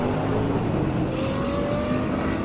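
A BMW M8 and a Ferrari drag racing, their engines a loud, continuous roar close by that holds steady throughout with a rising whine, no voices over it.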